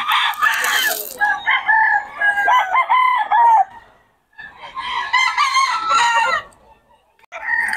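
A rooster crows loudly and close by, with a second long crow following a short pause, harsh and drawn-out, with no talk.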